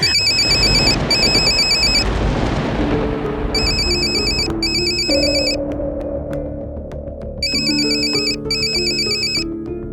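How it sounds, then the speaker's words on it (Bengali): A phone ringtone plays loudly in repeated bursts of bright electronic tones, over a low throbbing musical drone. "দেখ কার ফোন এসছে দেখ"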